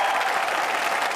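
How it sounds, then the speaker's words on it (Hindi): Audience on a Bhojpuri reality TV poetry show applauding to welcome a guest poet, a dense, loud burst of crowd clapping, brief and alone. "जोरदार तालियों से स्वागत किया जाए।"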